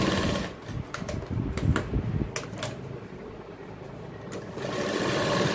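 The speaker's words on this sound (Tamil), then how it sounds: "இப்போ கழுத்துக்கு டபுள் தையல் போடுறாங்க" A sewing machine runs steadily while putting a double row of stitching on the neck of a 34-inch King Looks model jacket, a close, even mechanical whir with faint clicks over a continuous hum.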